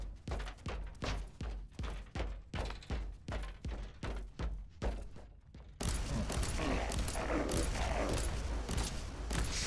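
Frag burst weapon firing in Warhammer 40K: Inquisitor - Martyr, a rapid rhythmic series of punchy blasts repeating about every half second, then giving way to a dense continuous roar of explosions and gunfire.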